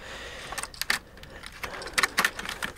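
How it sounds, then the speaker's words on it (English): Plastic tray holding a translucent iPad Mini snap-on back cover sliding out of its box, with scraping rustles and several sharp clicking knocks, close and fairly loud, no speech. "finally slide out this tray that holds the cover"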